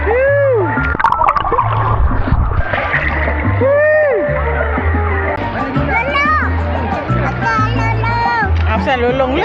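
A child splashes and sloshes water while bathing, with repeated splatters close by under lively chatter, children's voices and other background voices throughout.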